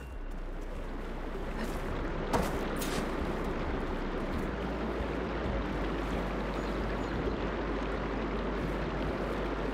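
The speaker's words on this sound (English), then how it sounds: "Aloy, I can hear water in the room again." Water flowing back into a room in the video game Horizon Forbidden West: a soft, continuous rushing wash that stays at a low, even level, with one brief splash-like accent partway through.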